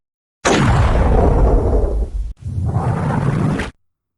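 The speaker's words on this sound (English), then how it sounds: "The final gunshot was..." A loud, booming video game gunshot blast from Max Payne with a long rumbling decay, briefly cut off, then a second sustained roaring burst before abrupt silence.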